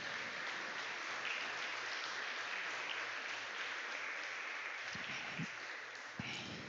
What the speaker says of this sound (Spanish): Vamos a ponernos de pie y darle un gran aplauso al Rey de Reyes